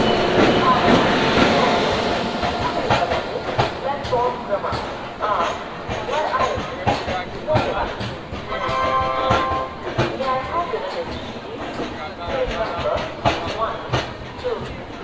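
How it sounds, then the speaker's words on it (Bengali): Himgiri Express train 12332 pulling into Varanasi station, with a rumble and clattering wheel clicks mixed with busy platform noise and people talking over it. "চলে এসছে আমাদের ট্রেন বারো হাজার তিনশো বত্রিশ জম্মুদাবাই থেকে হাওড়া হিমগিরি এক্সপ্রেস"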